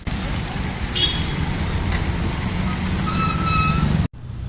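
Steady road traffic rumbles close by around an auto rickshaw in Pune, a continuous engine and tire drone with faint horn tones near the end, and the sound cuts off abruptly at the finish.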